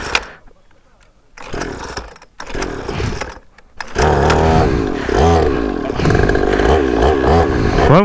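A mini motorcycle's small engine revs in choppy bursts, sputtering and cutting out before roaring up into a sustained, buzzing high-revving drone at close range.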